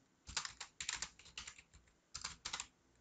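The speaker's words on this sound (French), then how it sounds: "quand je recompile maintenant et je tape X ici" Quick bursts of keystrokes on a computer keyboard, close and fairly loud, in short uneven clusters with brief pauses between them, no voices.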